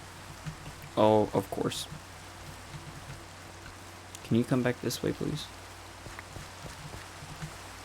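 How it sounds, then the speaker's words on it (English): Rain in the Minecraft game hisses as a steady, broad wash underneath the whole stretch, while someone talks over it in two short bursts. "I can't hear myself talking over the rain in the game, it's so loud"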